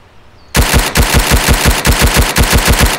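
A rifle fires in rapid succession in the Road to Vostok survival game. After a quiet start, about a dozen loud, evenly spaced shots follow in a steady rhythm.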